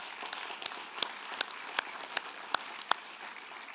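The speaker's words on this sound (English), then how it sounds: "Let's give them a special round of applause." An audience at a Republican Party forum gives a round of applause: scattered, fairly soft clapping with a few sharper individual claps standing out, moderately distant.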